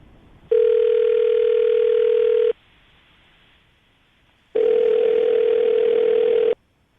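Two long, loud, steady telephone tones, each about two seconds with a two-second silence between, heard while placing a call during a morning radio show.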